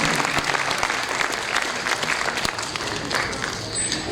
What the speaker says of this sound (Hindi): एक बार इन सब के लिए तालियों के साथ हम अभिनंदन करें।